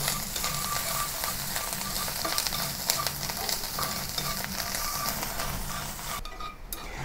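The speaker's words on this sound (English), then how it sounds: "and continue stir frying." Pickled mustard green and chopped garlic stir-fry in an oiled pan, a continuous sizzle with frequent spatula scrapes and clinks against the pan, close and steady.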